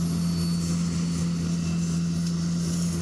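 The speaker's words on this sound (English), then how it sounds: "This tube behind me was created to help pick up leaves from the side of the road." A leaf vacuum truck's tube sucking up dry, dusty roadside leaves: a loud, constant mechanical hum with a strong low steady tone and broad rushing air noise, unbroken throughout.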